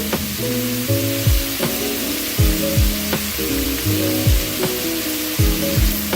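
A pan of shrimp fries steadily, with a constant sizzle and crackle running underneath while rhythmic clanks and scrapes repeat throughout. No one speaks.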